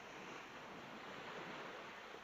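Sea waves wash in a steady, continuous broadband surge, close and full, with a wind-like hiss and no voices.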